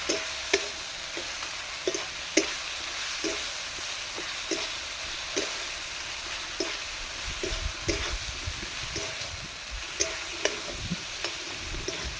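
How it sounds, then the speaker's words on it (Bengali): Garlic and ginger paste stirred in a hot pan for a chicken dish, soft steady sizzle with repeated sharp spatula scrapes and taps at an irregular rhythm, close and moderately loud, no talking. "খানিকক্ষণ নাড়তে থাকবে রসুন আদার কাঁচা গন্ধটা যতক্ষণ না যাচ্ছে ততক্ষণ নাড়তে থাকবে"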